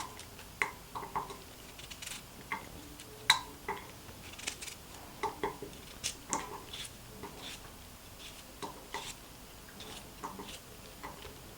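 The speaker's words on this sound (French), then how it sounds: "Nous allons les découper et les ajouter à la cocotte minute." Apples being cut and dropped into a pressure cooker, heard as a quiet series of irregular knife taps and light clinks of fruit against the metal pot, close by with no talking.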